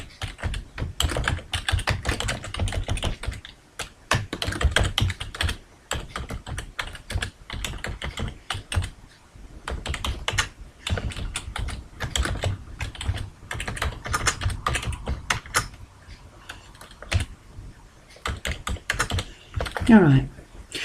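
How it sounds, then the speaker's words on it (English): Data being typed on a computer keyboard in Microsoft Excel 2010, heard as a steady run of close, crisp key clicks in bursts with short pauses throughout. "now what I'd like to do is type some data"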